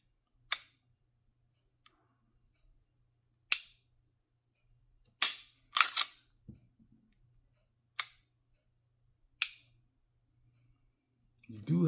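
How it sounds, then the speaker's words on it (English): Sharp, loud trigger-reset clicks from a GForce Arms GF9 Rapture pistol, about six isolated snaps spaced a second or more apart, with a quick double click near the middle and no talking. "You do have a loud audible trigger reset."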